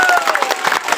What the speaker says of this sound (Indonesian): Tepuk tangan untuk Pak Herman.